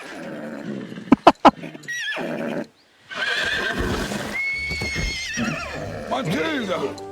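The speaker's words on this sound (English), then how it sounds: "Oh no! We killed a horse!" A horse neighs in Kingdom Come: Deliverance II, sharp loud whinny bursts near the start, then a gap and a long stretch where someone speaks excitedly over game sounds.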